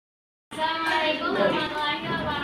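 A group clapping together, a loud steady patter of many hands starting abruptly and continuing evenly to the end.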